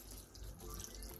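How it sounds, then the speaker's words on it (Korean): Soy sauce brine poured evenly into a container over Korean chive pickles, a soft, continuous close-up trickle and splash of liquid with no voices. "통에 간장물을 골고루 부어주세요"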